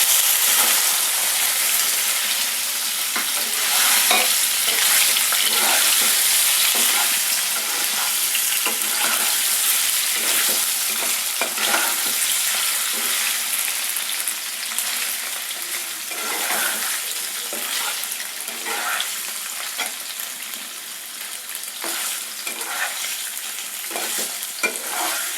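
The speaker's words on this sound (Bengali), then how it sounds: "এর ওই তেলের মধ্যে পনিরগুলো অল্প আঁচে ভেজে নেব।" Paneer cubes shallow-frying in oil over a low flame, giving a steady, dense sizzle with scattered crackles and occasional stirring scrapes, close and continuous without voices.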